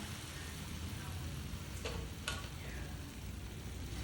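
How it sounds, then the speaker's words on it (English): A Congolese Madesu bean mixture hisses and sizzles as it hits a hot pan. The frying noise is steady and close, with a couple of brief scrapes partway through and no talking. "get the mixture into my pan"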